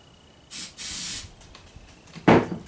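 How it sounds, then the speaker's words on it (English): Two short bursts of aerosol starter fluid spray hiss close by into a Suzuki GS500 motorcycle engine, then a louder rushing hiss near the end, with quiet pauses between. "Spray a little more starter fluid in there."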